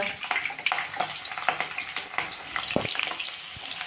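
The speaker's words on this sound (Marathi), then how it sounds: "तेल तापलं आहे त्यामध्ये आपण हे नूडल्स तळून घेऊया" Noodles deep-frying in hot oil over a high flame, giving a loud, continuous, hissing sizzle dotted with sharp crackles and pops throughout.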